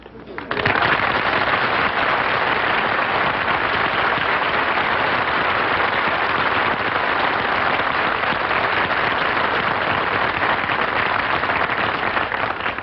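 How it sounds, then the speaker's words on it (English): Studio audience applause on a classic radio comedy program, a loud, continuous wash of clapping that swells in quickly and holds unbroken for the full stretch. "I didn't mind the applause he got on his entrance"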